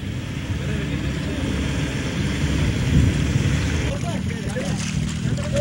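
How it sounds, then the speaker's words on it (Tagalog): A rescue boat ferries residents and their motorcycles across a river, with a continuous motor drone and water wash. Faint wind and splashing sit in the background, and a voice talks partly over the noise. "Ang mga residente at kanilang motorsiklo isinasakay sa rescue boat para makatawid."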